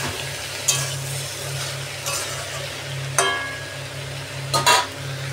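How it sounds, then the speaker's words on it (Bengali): A radish vegetable curry seasoned with salt and turmeric is stirred in a pan, giving a soft steady sizzle over a low hum, broken by four sharp clinks of a utensil against the pan. "আমি আবার ভালো করে নাড়াচাড়া করে নেব।"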